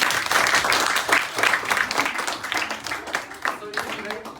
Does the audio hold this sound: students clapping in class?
yes